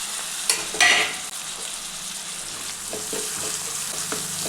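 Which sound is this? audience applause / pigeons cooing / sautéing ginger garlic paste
sautéing ginger garlic paste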